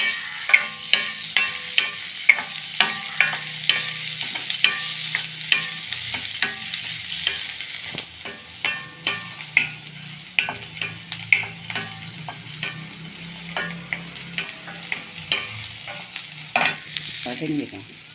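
Ingredients for paneer butter masala sautéing in a hot pan, a continuous loud sizzle broken by regular scraping stirs of a spoon, steady and close throughout with no talk.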